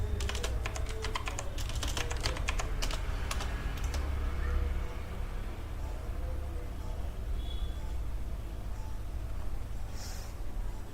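Computer keyboard typing, a quick burst of rapid clicking keystrokes at the start, then sparse faint taps over a steady low hum.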